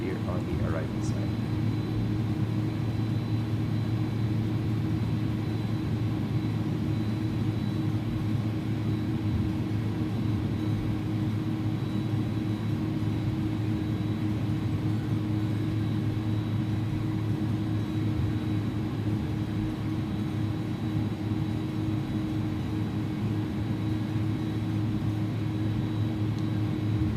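Airbus A300 airliner in the iniBuilds A300 v2 flight simulator entering the runway, with a steady, unbroken engine drone and low rumble held at even loudness throughout.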